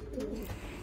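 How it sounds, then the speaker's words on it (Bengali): Spanish pouter pigeons of the Rafeno breed coo in a loft, a soft low burbling call that carries steadily through the short moment, close and fairly quiet with no voices over it. "এই লফটটিতে একটি বিশেষ প্রজাতির স্প্যানিশ পোটার পালা হয়।"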